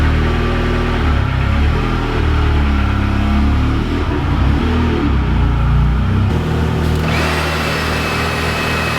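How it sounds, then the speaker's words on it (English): A Ford Sapphire RS Cosworth engine running with a loud, steady low drone and a slight rise in revs, close up and continuous, without any talking. "I am going to start this and drive it, but I'm going to use the handbrake."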